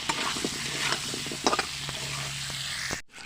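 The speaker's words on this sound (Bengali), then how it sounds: "এবারে আলুগুলোকে লাল লাল করে ভাজা করে নেব।" Potatoes with turmeric and salt fry in oil in a wok, a steady close sizzling hiss punctuated by stirring clatter and a few louder crackles, ending in a sudden cutoff.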